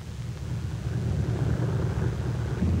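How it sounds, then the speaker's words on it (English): Steady low engine roar of a US Navy Brewster F2A Buccaneer fighter rolling through a flaps-down takeoff run, continuous and even, with a windy rumble and no talk. "Now let's try a takeoff with the flaps down for the full distance of the takeoff run."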